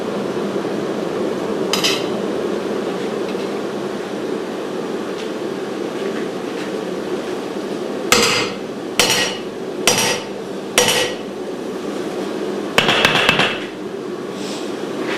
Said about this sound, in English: Mild steel anvil, by the way.